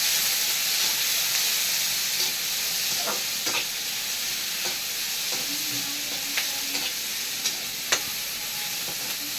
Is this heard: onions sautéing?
yes